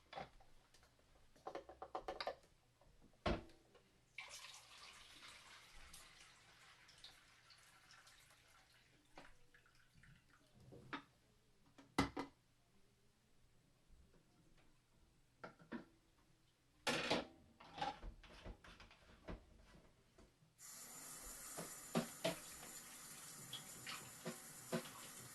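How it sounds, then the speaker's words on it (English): Photographic fixer is poured out of a film developing tank in a home kitchen darkroom, with faint splashing and trickling, scattered clicks and knocks, then a steady louder stream of liquid toward the end. The sounds are quiet and nearby. "I'm going to pour the fixer out of here."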